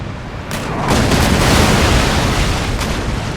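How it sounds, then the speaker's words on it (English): Cannon fire and chain shot striking a ship's sails and hull in an American Revolution naval battle video game, a loud dense rumbling blast that swells and lingers as a broad roar. "We have chain shot being fired at our sails, as well as regular cannon shot."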